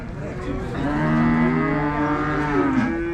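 A ten-month-old Holstein Friesian heifer calf at a cattle market in Sangola moos in one long, drawn-out bellow, loud and close, rising slightly then dropping off at the end.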